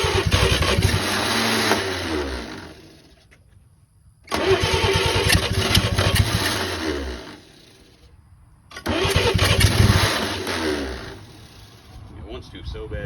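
An 80-year-old Chevy 216 six-cylinder engine, long dead, cranks in three loud bursts of several seconds each, separated by short pauses; it sputters and catches briefly in each attempt, heard close up.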